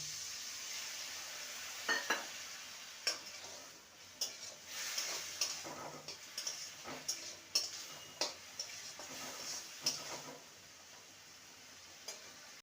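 Spices with salt and ground cumin are sautéed in a pan for a vegetarian ghugni, giving a faint, soft sizzle broken by a series of sharp spatula scrapes and taps against the pan.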